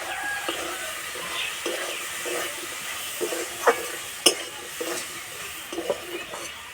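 Burnt cauliflower stir-fried with spices in a pan sizzles softly, with irregular scraping stirs and a few sharper clinks.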